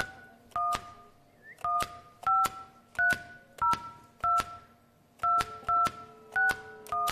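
A telephone number being dialed on a keypad, a series of short, evenly paced dual-tone beeps in quick clusters, clear and alone with no talk.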